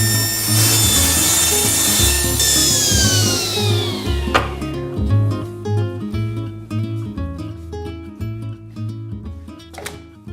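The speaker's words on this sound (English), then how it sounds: "I'll just cut the last strip for this rocker now." A thin wooden rocker strip being cut with a saw, with rhythmic rasping strokes close by, beginning with a rising whine and ending in a sharp crack near the end.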